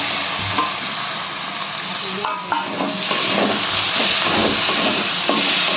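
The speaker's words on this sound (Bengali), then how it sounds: "চিকেনের কিমা দিয়ে আমরা ভালো করে মিশিয়ে নিচ্ছি" Chicken mince fries with fried garlic in a hot pan, giving a loud, continuous sizzle with repeated scraping stirs of a spatula through it, close up.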